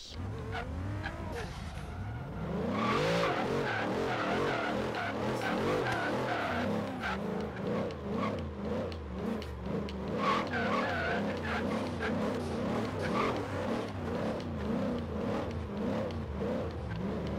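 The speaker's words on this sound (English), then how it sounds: "I need this thing to spin the rear tires like crazy." A car revs hard and spins its rear tires, bursting into a loud, sustained skid and tire squeal after a brief quieter start. Engine roar and screeching tires continue steadily for about fifteen seconds, with no talking.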